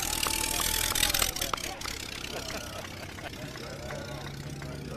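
A vintage race car engine at the 2023 Rolex Monterey Motorsports Reunion runs just after firing up, a moderate idling rumble with a brief louder burst early on, heard under an excited voice and crowd noise.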